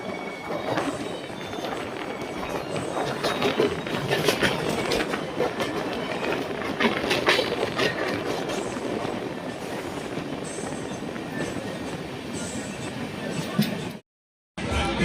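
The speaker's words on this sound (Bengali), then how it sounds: "বন্ধুরা আমাদের ট্রেন এখন ঢুকছে মেছেদা স্টেশনে।" Tamralipta Express passenger train running into Mecheda station, a steady loud rumble of wheels with rhythmic clickety-clack and faint metallic squeals, heard from inside the moving train, with a brief drop near the end.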